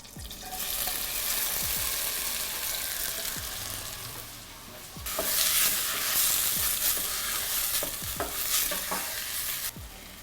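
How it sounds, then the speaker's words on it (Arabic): Tomatoes, onions and garlic fry in butter and vegetable oil with a loud, continuous sizzle, punctuated by the scrape and clatter of a utensil stirring the pan several times; no one speaks. "عندي راسين من البندورة، 2 بصل و2 توم، رح قليهم لكانوا دبلوا"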